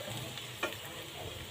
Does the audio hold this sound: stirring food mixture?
yes